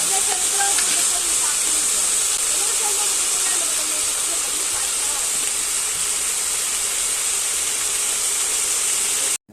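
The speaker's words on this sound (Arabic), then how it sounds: "بعد ما حلوصنا البصل ضفنا ورق الرجلة لحتى يتدبل في الطنجرة" Purslane leaves and softened onions cook together in a pot in a Gaza kitchen, giving a steady loud hiss and sizzle throughout with faint scraping of stirring.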